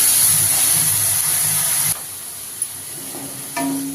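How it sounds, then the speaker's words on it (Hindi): Onion paste frying in a pan with hing while being stirred, a steady close sizzle with scraping that drops quieter midway, then swells again near the end. "प्याज के पेस्ट को चलाते हुए अच्छे से हम भून लेंगे।"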